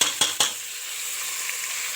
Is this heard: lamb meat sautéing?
yes